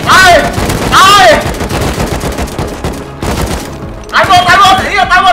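Gunfire in the video game Rust, loud rapid bursts and rattling shots, with shouting voices cutting in over the shooting.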